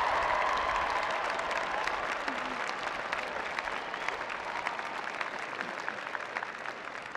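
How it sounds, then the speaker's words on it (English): Graduates at a university spring commencement in a large stadium applaud their families, a broad, sustained roar of clapping from a huge crowd that holds steady throughout. "Graduates, please join me in applauding your families for everything they have done to make"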